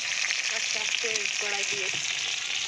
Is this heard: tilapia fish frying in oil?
yes